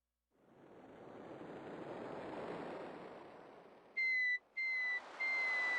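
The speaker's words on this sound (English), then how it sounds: "it's supposed to sound like a seagull, not a whistle." A rising rush of synthetic noise swells and fades, then several sharp, high electronic chirps cut in, a seagull cry from the sound chip of King's Quest VI (1992).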